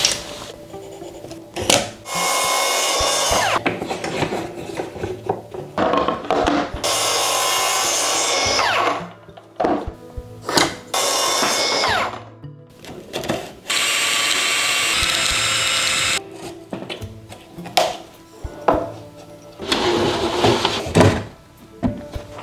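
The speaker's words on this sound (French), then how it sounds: "passer un coup avec la scie plongeante" A plunge saw whines up and bites into wood in several loud passes, winding down between cuts with mechanical clatter.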